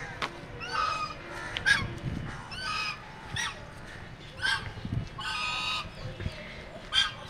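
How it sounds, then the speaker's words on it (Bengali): Swan honking at Amarabati Park in Digha, a seaside town park with boating, in a series of short nasal calls spread across the clip over a steady outdoor background. "দেখুন এখানে একটি রাজহাঁস রয়েছে"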